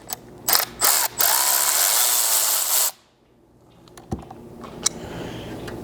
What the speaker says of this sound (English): you can take your 7mm and remove the one screw that you can see out here on the side